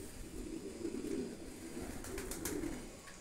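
Pigeons and doves feeding on a seed mix, with steady low cooing running throughout at close range and faint soft rustling behind it.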